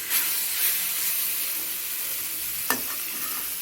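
Marinated pork hits a hot wok with a loud, steady sizzle and hiss that stays close and continuous, with a brief clatter partway through and no talk.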